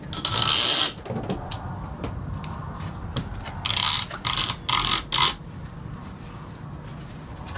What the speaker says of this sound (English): All right, let's clamp here.